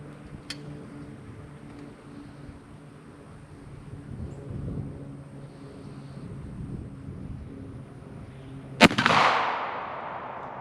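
A single sharp blast from a Lyman Great Plains .50 caliber muzzleloader rifle cracks out near the end, loud and sudden against quiet outdoor background, followed by a brief fading rumble.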